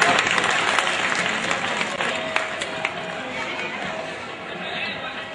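An audience at a school prize ceremony claps loudly and continuously as a student is called to the stage, a dense wash of applause that slowly fades, with crowd chatter mixed in.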